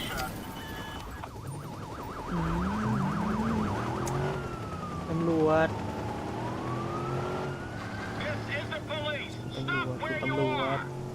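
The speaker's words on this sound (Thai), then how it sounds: "โอ้โหรถตำรวจแม่ง" A police car siren in the video game Watch Dogs wails and warbles over a rumbling engine and game sounds, with a voice briefly speaking over the noise.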